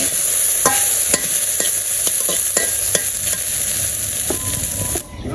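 Onions and salt fry in a pan with a steady loud sizzle, while a spoon scrapes and stirs at a fairly regular pace, giving a string of sharp clacks against the metal; the sizzle cuts off abruptly near the end.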